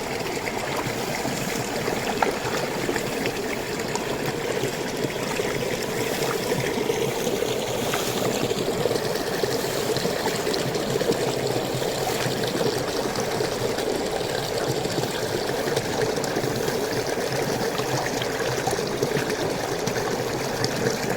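Water flowing steadily as a rice-field channel is drained, a constant rushing, gurgling stream that holds at an even, fairly loud level throughout with no talk.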